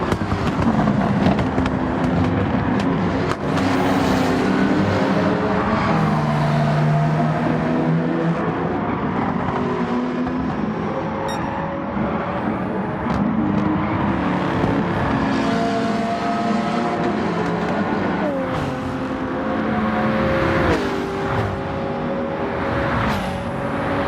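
A truck races in Gran Turismo 7, its slow, fuel-hungry engine droning loud and close without pause, pitch climbing and dropping through repeated gear shifts, with crackly bursts layered over the steady roar and no voices.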